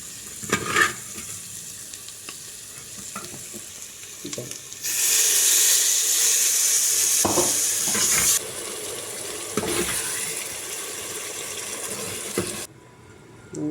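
Liquid gravy poured into a hot pan of curry with spiced paste sets off a sudden bright hiss that holds for a few seconds, then continues as steady frying and stirring sounds with occasional scrapes.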